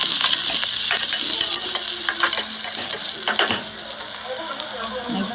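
Vegetable pulao ingredients fry in a pan with a steady sizzle as a utensil scrapes and stirs them, giving close clanking and scraping sounds over the continuous hiss.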